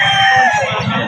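A Red Kelso gamecock rooster crows loudly and close by in one drawn-out call, with faint clucking underneath.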